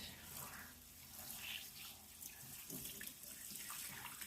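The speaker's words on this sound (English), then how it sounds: "take your time, really rinse the hair. You want to get all that product out." A hose runs water over a synthetic wig as it is rinsed, a continuous, soft spattering rush with small splashy changes throughout.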